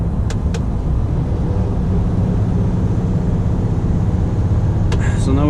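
A Scania G450 truck pulling a tall trailer drones along into a tunnel beneath a city, a loud constant low engine and road rumble that fills the whole stretch, with faint talk near the end.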